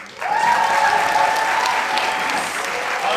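A live theatre audience at a science comedy show erupts in sustained applause and cheering, with a bright whoop rising above the dense clapping, loud and close throughout.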